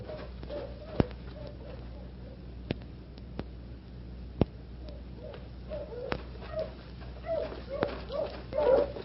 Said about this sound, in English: Aren't those hounds baying?